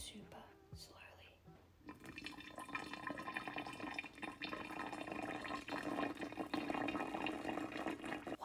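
Boiling water poured slowly into a hot water bottle: a soft, steady gurgling trickle that builds and fills over several seconds, quiet and close, heard alone.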